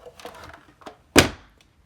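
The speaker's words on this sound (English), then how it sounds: "And now I'm going to pull out my big shot right here." A Stampin' Up Big Shot die-cutting machine is pulled out and set down, giving one loud close thunk after faint handling noises.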